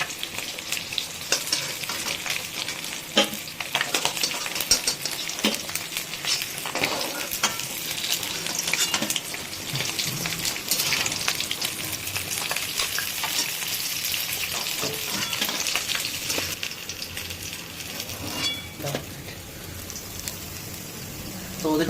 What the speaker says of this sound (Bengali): মাছের মাথাগুলোকে আরেকটুখানি লাল লাল করে ভাজতে হবে।